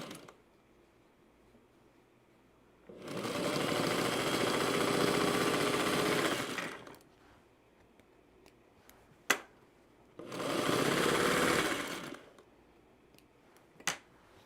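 A home sewing machine stitches seams on a quilt in two steady whirring bursts of a few seconds each, separated by quiet pauses with small clicks.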